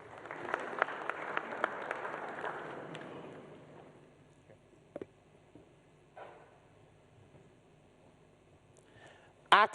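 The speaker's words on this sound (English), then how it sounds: "let's give them a round of applause" Audience applause at a Ghanaian digital enterprise event, loud and dense clapping for the first few seconds that fades out, followed by quiet room noise and a few scattered sounds.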